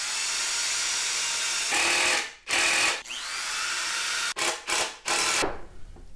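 A power drill whirs loudly into a wooden desk in several bursts, starting and stopping with short pauses between runs, close by and with no talking.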